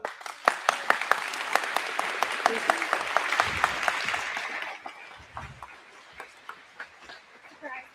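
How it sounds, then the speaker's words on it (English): Crowd applause at a county fair coronation for Miss Jackson County, with steady clapping for about five seconds that then fades into scattered claps. A voice sounds faintly underneath. "a round of applause for our 26-27 Miss Jackson County first attendant, Andrea Cogswell"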